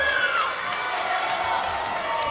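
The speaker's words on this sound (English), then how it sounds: "Listen to the crowd. They're on their feet." A volleyball crowd on its feet at a Central Catholic vs. Clackamas match, cheering and whooping in a steady roar with whistles and clapping throughout, and voices mixed into the din.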